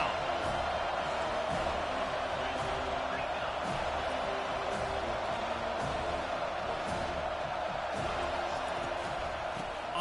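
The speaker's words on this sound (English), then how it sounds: "Here comes this home crowd as the defense tries to get off the field on third down." Home crowd in a Madden 2024 football game roars steadily as the defense tries to get off the field on third down, a dense, unbroken wall of cheering throughout.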